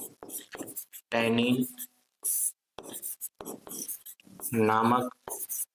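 A pen scratches on paper as an answer is written out, a faint rubbing in short bursts heard beneath a voice speaking slowly as he writes.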